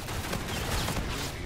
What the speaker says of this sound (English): go ahead and pop off my pistol a little bit